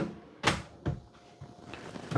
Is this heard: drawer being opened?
yes